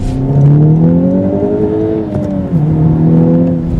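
A turbocharged four-cylinder engine of a 2015 Subaru WRX STI revs up and holds a gritty, rising drone, dips briefly, then pulls again, loud and close.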